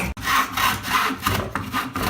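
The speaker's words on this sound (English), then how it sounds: "Eric's sawing the top of his bucket." Hand saw cutting through the top of a wooden bucket in a cooperage class, steady back-and-forth rasping strokes close up, loud and continuous with brief pauses between strokes.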